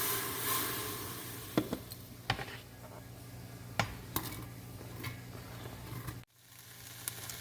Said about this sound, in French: je vais commencer par faire sauter les oignons